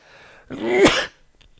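A single sharp sneeze bursts out close to the microphone after a quick intake of breath, then quiet.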